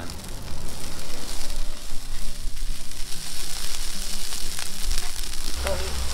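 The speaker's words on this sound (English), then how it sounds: "And then we're gonna add a little egg." Eggs sizzle and fry on a big flat cooking surface alongside cooked meat and rice at an outdoor camp, a steady loud crackle filling the whole stretch with no talking.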